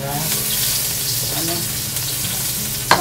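Garlic and ginger frying in hot oil, a loud dense continuous sizzle with a brief clatter at the end and a faint voice in the background.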